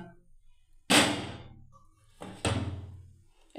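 A kadai (wok) is set down on a gas stove, making two sharp, close metallic thumps about a second and a half apart. Each thump rings briefly and fades into quiet.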